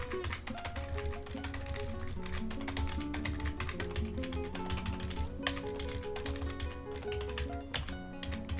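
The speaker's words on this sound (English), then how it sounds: "Hear me using my keyboard here" Steady, close typing on a computer keyboard, rapid clicking keys running continuously under a faint music bed, with no talking.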